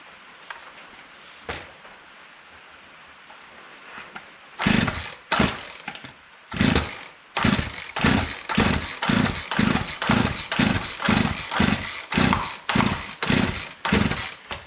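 Old chainsaw, unused for over five years, started on full choke: a few faint pulls and a cough, then it catches and runs loud with a rapid, evenly pulsing rev that stays steady close by.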